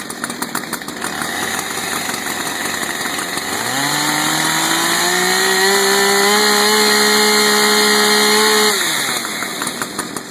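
A chainsaw idles unevenly during a daily check, then its revs climb steadily from low to a loud, sustained high whine. The throttle is held there for several seconds before dropping back to idle, close and with no voices.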